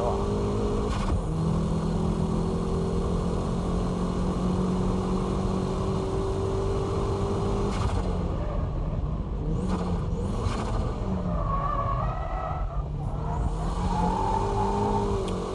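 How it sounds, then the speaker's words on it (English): A BMW drifts with a loud, sustained engine that revs and surges through repeated pitch swings and throttle blips, heard close and continuous. "That corner entry began as a braking drift, but towards the exit I switched to dynamic drifting."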